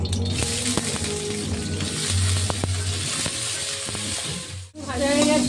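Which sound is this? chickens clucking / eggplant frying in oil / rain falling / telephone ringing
eggplant frying in oil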